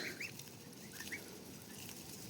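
A small flock of farm geese calls with several short honks and cackles over a steady outdoor background, moderately near, with no talk.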